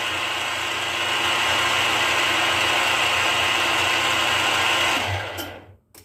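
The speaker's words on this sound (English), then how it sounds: "Milling a pocket right there." A milling machine cuts a pocket in a metal part for a nut to sit square, making a steady, loud broadband whine and hum that runs continuously before abruptly winding down and stopping near the end.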